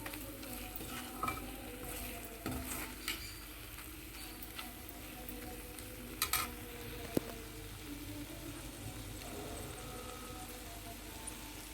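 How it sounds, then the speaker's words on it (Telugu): Chili powder frying in oil for a chicken curry cooked with milk, a soft continuous sizzle with occasional stirring taps and scrapes, fairly faint throughout. "ఇది కూడా ఒక నిమిషం పాటు ఏగనిద్దాం"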